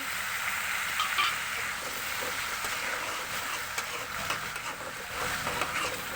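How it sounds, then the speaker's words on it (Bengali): Spiced tomato gravy for sweet pumpkin curry stir-fried in a pan, a steady close sizzle with faint scraping and stirring noises running throughout, no voices. "এখন এর মধ্যে দিয়ে দিচ্ছি মিষ্টি কুমড়া রান্না করা ঝোল টমেটো করে।"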